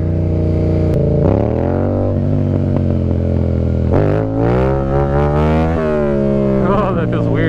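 A Yamaha MT-07 motorcycle revs during wheelie stunt practice, its engine note climbing and falling in strong sweeping pitch changes, loud and close throughout.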